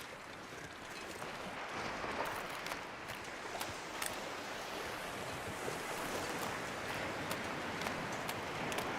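Shoreline waves in the survival game The Long Dark, a steady washing surf mixed with gusting wind, rolling on continuously at moderate level with no voices.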